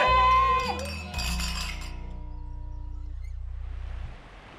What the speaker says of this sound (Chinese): 好，为我走出失恋，干杯！